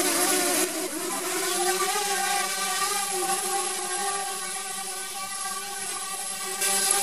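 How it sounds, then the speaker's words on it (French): A DJI Spark drone spinning up and hovering nearby, a steady high-pitched propeller whine and buzz with layered tonal harmonics, fairly loud and continuous, with no one talking over it. "Votre drone démarre."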